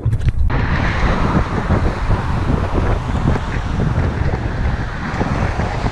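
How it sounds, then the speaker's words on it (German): Strong crosswind along the US Pacific Coast, heard as loud, continuous low buffeting and roaring against the microphone from start to finish. "Und der Wind kommt direkt von der Seite."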